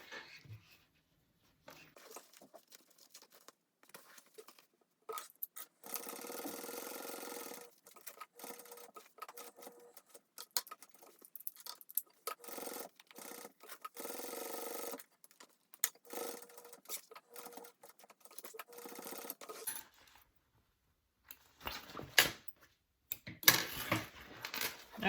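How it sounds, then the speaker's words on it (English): Sewing machine stitching around a rectangle on a Raelyn bag, faint intermittent whirring runs broken by pauses, handling clicks and light clatter, quiet overall. "I'm going to sew around that rectangle"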